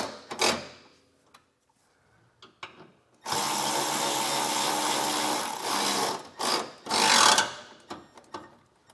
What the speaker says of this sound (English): we're going to take a 6mm Allen head key and tighten these bolts up